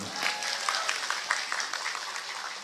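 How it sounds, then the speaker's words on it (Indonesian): Audience applause for the Muslimat at a Muslimat anniversary gathering, soft and steady clapping of a crowd lasting a few seconds, fairly distant and low in level. "Tepuk tangan untuk muslimat"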